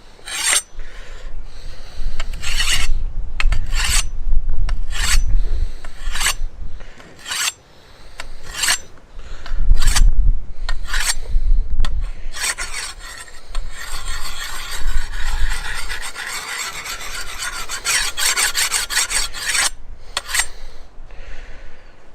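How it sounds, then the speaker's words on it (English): A sharpening stone rasps repeatedly along a curved garden blade in steady back-and-forth strokes, close and loud, with no talking. "sharpening stone is because it is cut, so it sort of makes it a bit better for sharpening curved blades"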